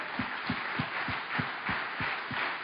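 A church congregation claps to praise the Lord in a steady rhythmic beat, with a broad crowd noise running underneath.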